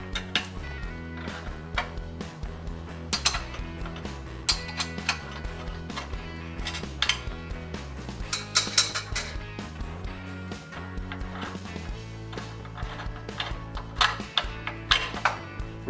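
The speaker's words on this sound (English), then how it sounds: "remove the bolt on the bottom of the power link, which goes through the pivot arms, using a 7/16 wrench and the Allen wrench" Metallic ratcheting and clinking as a 7/16 wrench and Allen wrench work the bolt free from the power link and pivot arms of a Tapco sheet-metal brake, with irregular clicks and clanks close up.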